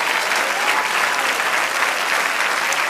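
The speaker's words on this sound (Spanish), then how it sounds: "Dele aplauso al Señor." A church congregation applauds during a Spanish-language sermon, a loud, dense and continuous burst of clapping from many hands that fills the room.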